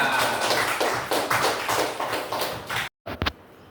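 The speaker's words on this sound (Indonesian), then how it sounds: "Berikan tepuk tangan untuk kelompok kedua." Students in a fifth-grade classroom clap for a presenting group, a dense burst of close, loud hand claps that stops abruptly, followed by a few scattered claps.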